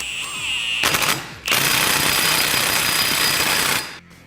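Power tool fully tightening an axle nut during a high-clearance A-arm install on a Kawasaki Teryx KRX 1000, a loud rapid hammering burst, a brief pause, then a long sustained rattling run that cuts off.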